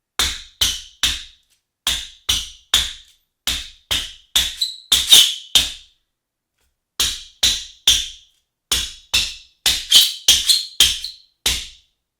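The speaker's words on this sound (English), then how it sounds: "there's a really nice loud high pitched squeak" High, sharp squeaks from New Balance Kawhi 4 basketball shoe soles on a court, a rapid run of short chirps in two bursts separated by a brief pause, loud and close with no talk.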